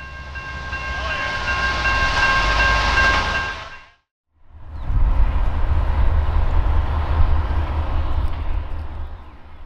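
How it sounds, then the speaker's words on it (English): A slow-moving Amtrak work train with open ballast hopper cars creeps close by with a steady rumble and squealing, ringing metal tones, fades briefly, then grinds on again with heavy wheel noise. "As the train creeps along, we get a close-up of one of the open ballast hoppers."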